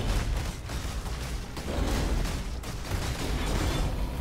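Path of Exile's Barrage skill fires a dense, continuous stream of rapid attack hits, a loud, churning clatter of combat effects with no clear gaps, for about four seconds.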